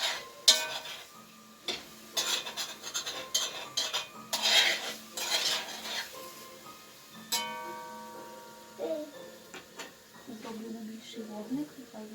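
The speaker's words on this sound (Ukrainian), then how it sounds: "Я зараз помішаю м'яско, щоб воно не пригорало" Spoon stirring meat in a pot while plov cooks, with irregular scraping and clinks of utensil against metal under a low sizzle, interspersed with someone talking nearby.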